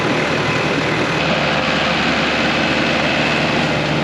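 A tractor and a silage bagger run together during a silage harvest, producing a loud, constant low engine drone with a broad mechanical roar up close and no voices.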